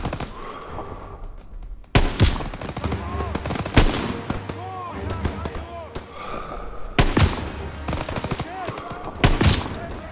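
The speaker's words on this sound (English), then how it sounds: "Gunfire! We must be near our guys." Heavy gunfire from a World War II first-person shooter, Call of Duty WWII, with bursts of rifle and machine-gun fire and loud close impacts throughout, while voices talk amid the battle.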